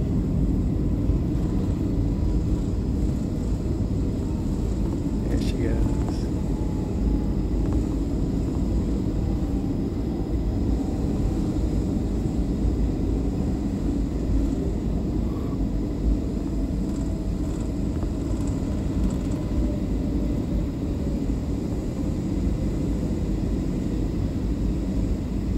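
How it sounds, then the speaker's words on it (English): An American Airlines Airbus A321 airliner takes off, a steady broadband roar and rumble that holds loud and even throughout, heard from a distance with no voices. "It's an American Airlines. Looks like an A321, it looks like, taking off."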